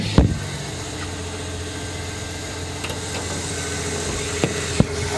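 A truck's inline six engine idles steadily up close with a low, even rumble and faint vibration, a few brief knocks and clicks breaking through near the start and end.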